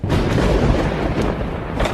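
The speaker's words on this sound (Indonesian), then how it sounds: "lampu tiba-tiba mati disertai suara guludug petir yang menyambar" A thunder strike from the film The Wailing, arriving as a loud, sustained rolling rumble with a dense low roar and faint crackling edges over about two seconds.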